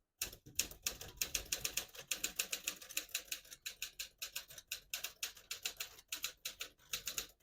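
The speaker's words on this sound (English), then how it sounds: "I'll type a sentence in red on the next line" Crisp mechanical keystrikes of a 1950 Smith-Corona Silent portable manual typewriter clack in a quick, fairly steady rhythm, close and distinct, with no talking.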